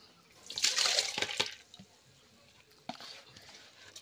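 Soaked dal, chopped green chillies and tomatoes tipped into a cooking pot with a brief wet splash and slosh, followed by a few soft clatters and a smaller splash of liquid in a quiet setting.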